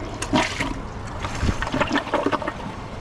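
Water gurgles and splashes in short bursts as a 2025 Kohler Highline Arc tall-tank toilet bowl drains after a regular flush, close and fairly loud.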